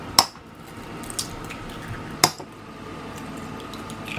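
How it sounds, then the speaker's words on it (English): Two eggs are cracked into a bowl. Two sharp, close cracks with a wet squish are spaced about two seconds apart against a quiet kitchen background. "Then you crack two eggs straight into there."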